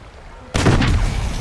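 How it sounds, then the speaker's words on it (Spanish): Gunfire in the video game Uncharted 2, a sudden loud burst of shots that breaks a quiet moment and rings out briefly. "Pero esperen, yo escuché como tiros."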